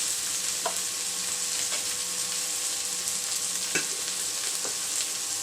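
Ginger garlic paste frying in a pan for masala bhindi, a constant soft sizzle with a few light stirring scrapes, close and unbroken.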